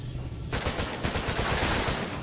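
A rapid-fire weapon in the VR game Stormland opens up after a short quiet moment, a dense, loud stream of shots that continues for about two seconds.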